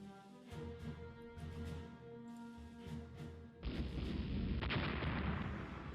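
Naval guns open fire on a destroyer in the naval strategy game Rule The Waves, a dense booming barrage that grows louder and fuller partway through and then sustains a continuous roar of shots.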